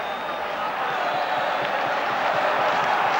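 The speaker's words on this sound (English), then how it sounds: "Well, the crowd enjoyed that, you can hear them singing." A rugby league crowd at the Boulevard in Hull, at a 1982 Hull FC against Australia match, sings and cheers as a continuous distant roar of massed voices, steady throughout.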